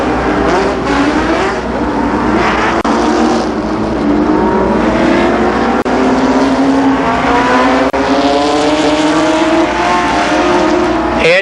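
Stock cars race at Columbus Motor Speedway in 1992 super late model feature action, engines roaring loud and steady throughout with pitch shifts as cars pass and accelerate, a dense continuous pack sound.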